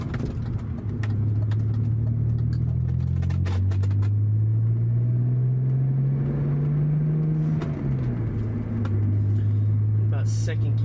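A BMW 530i with a complete exhaust system cruises in third gear at about 2,700 rpm and roughly 41 mph, giving a steady, smooth engine drone whose pitch slowly rises and then drops, with someone talking over it.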